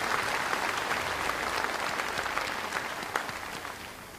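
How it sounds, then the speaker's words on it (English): Audience applause fills a commencement ceremony at the University of Arkansas Fort Smith, a steady, dense clapping from a large crowd that holds for several seconds and slowly fades slightly toward the end. "I'd like to give him a round of applause"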